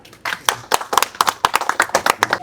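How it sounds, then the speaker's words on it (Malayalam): An audience claps at a veterans' penalty shootout prize ceremony organised by the Vengara grama panchayat, with bursts of hand claps building into steady, fairly loud applause over a few seconds. "കൈയടി."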